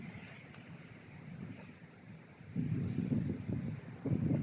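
Sea waves wash onto a white-sand beach at Cristal Beach Resort, with steady wind noise on the microphone and louder surges of surf rolling in during the second half.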